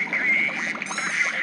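Quacking from a duck sound in the tank game World of Tanks Blitz, a short series of nasal calls close up over a steady background hum.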